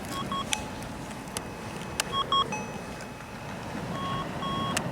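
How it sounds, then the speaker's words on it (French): Minelab SDC 2300 metal detector sounding a few short calibration beeps over a steady low hum, the tones spaced irregularly and fairly clear, with no talk. "Vous entendez? Bip, bip, bip, bip, il est calibré."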